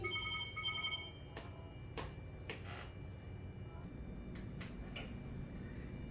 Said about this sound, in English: the phone's gonna ring